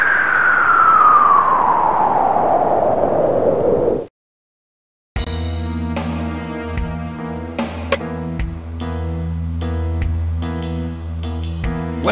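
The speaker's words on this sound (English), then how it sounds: "Those police cars stopped here." Wailing police car sirens in the Spider-Man: The Sinister Six video game, one long descending wail fading out, a brief silence, then a busy steady game soundtrack with layered tones and hits.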